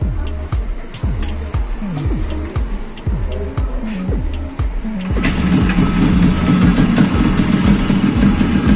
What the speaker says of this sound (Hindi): एक किक में स्टार्ट हो रही है।